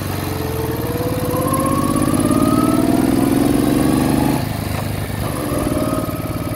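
A 1968 Moto Guzzi V7 700 motorcycle with freshly sleeved cylinders, new pistons and rings runs with a steady, throbbing engine note that swells briefly in revs, then dips and settles back, loud and close.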